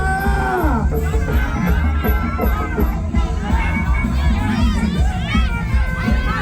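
A packed Muay Thai crowd roars through the third and final round, many voices including children shouting and cheering together in a loud, unbroken wall of sound.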